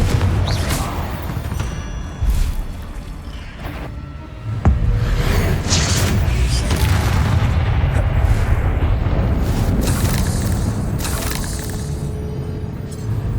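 Repeated Confringo fire-spell blasts from the game Hogwarts Legacy, a dense run of booming explosions and bursts layered over continuous loud combat rumble, with sharp cracks standing out throughout.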